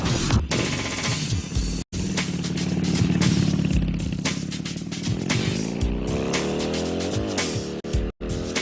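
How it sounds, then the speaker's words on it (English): Rocket engines roar at liftoff, a loud continuous crackling rumble that stays dense for several seconds, rising and shifting in pitch toward the end, with brief dropouts and no voices over it. "All engines running. Liftoff. We have a liftoff."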